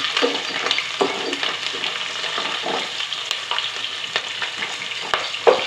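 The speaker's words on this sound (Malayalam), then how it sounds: "ഇഞ്ചിയും പച്ചമുളകും നമ്മൾ എടുത്തു വെച്ചിരിക്കുന്ന കറിവേപ്പിന് എല്ലാം ഇട്ട് കൊടുത്തിട്ടുണ്ട് ഒന്ന് മൂത്ത് വരുന്നവരൊന്ന് വെയിറ്റ് ചെയ്യാം" Ginger, green chilies and curry leaves frying in a pan for a duck curry, a continuous close sizzle broken by stirring scrapes and small crackles.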